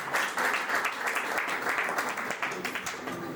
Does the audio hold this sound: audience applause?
yes